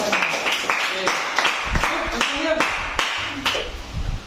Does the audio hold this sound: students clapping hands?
yes